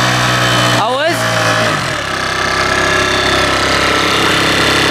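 A scooter engine runs close and loud, revving up in a quick rising sweep near the start, then settling into a steady, buzzing drone for the rest of the clip, with voices in the background.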